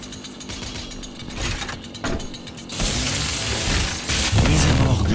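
Harsh mechanical grinding and crunching bursts build in the video game DOOM as a chainsaw kill plays out, growing louder and denser toward the end, with no voices.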